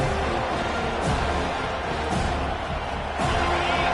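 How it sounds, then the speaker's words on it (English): Home crowd at a college football game roaring steadily through a third-down defensive stand, a dense, continuous stadium wash with swells of cheering, heard at a distance without any clear voice on top. "Here comes this home crowd as the defense tries to get off the field on 3rd down."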